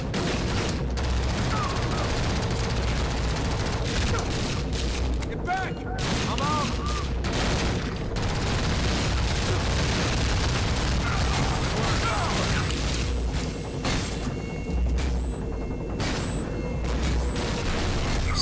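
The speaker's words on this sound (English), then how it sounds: "Assault rifles." Sustained assault rifle fire in the video game Fuse runs through the whole stretch as a dense, continuous fusillade with scattered booms and mechanical clatter. It sits at moderate level, with occasional voices and game sounds over it.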